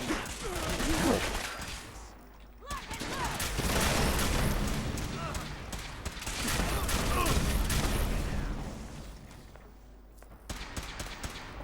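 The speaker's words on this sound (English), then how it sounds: "Who are we shooting at" Gunfire in the video game Fallout 4: repeated bursts of shots and booming impacts form a dense, continuous battle din that swells and fades, with someone talking over it.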